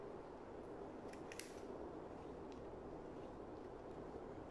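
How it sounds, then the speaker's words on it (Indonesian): Scissors snip a paper bookmark, trimming the excess at the bottom; a few quiet, brief cuts stand out over a steady low background hiss. "kalau macam ada lebih tu, korang gunting lah kan. Bawah dia."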